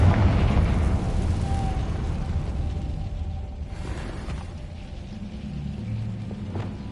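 A fiery Confringo blast spell in the Hogwarts Legacy video game erupts as a loud, deep booming rumble that swells at the start and rolls on for several seconds, with a second burst partway through.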